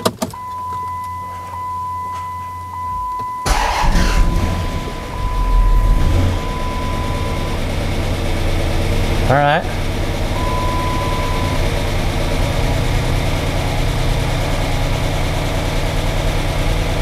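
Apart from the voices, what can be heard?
Chrysler Hemi 5.7 engine idling after rebuild, lifter clatter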